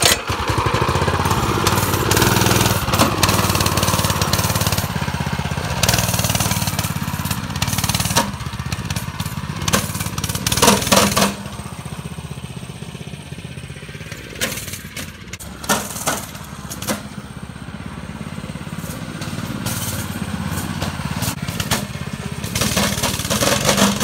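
A pull-started go-kart engine runs loud and continuous during a ride, its rough, buzzy tone rising and falling with throttle and sometimes broken by brief surges.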